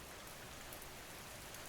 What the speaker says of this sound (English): The small, steady patter of October rain on lead